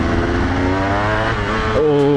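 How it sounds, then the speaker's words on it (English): A two-stroke motorcycle engine revs up close into higher revs in second gear, its buzzing pitch climbing steadily before shifting abruptly near the end. "just getting it up into those higher revs there"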